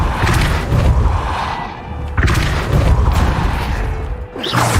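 Depulso spell impacts in Hogwarts Legacy: dense, continuous game clatter with repeated heavy thuds and crashes of objects being knocked around, loud and close throughout.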